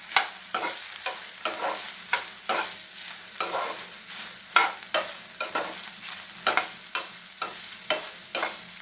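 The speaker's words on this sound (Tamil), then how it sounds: "இப்போ எண்ணெய் சூடானதும் சோயாவை எடுத்து சேர்த்துடலாம். இதை நல்லா ரோஸ்ட் பண்ணிக்கோங்க." Soya chunks roasting in hot groundnut oil, a steady fry punctuated by regular rhythmic scraping strokes of a spatula, close and clear with no voices.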